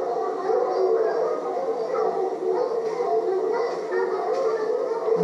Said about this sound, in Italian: Fantastico, sentite la canizza.